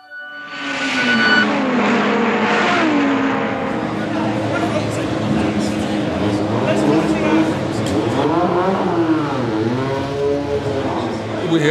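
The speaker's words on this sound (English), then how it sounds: "We're here at Silverstone, and I'm driving in a celebrity race." A race car at Silverstone circuit drives past with a sustained engine drone that shifts pitch as it revs and changes gear, heard under continuous speech.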